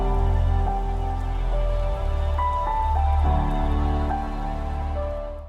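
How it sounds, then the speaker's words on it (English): Rain patters steadily under a piano intro in a song, a continuous wash of drops beneath sustained piano notes. "But what takes it to the next level is the sound of the rain with it."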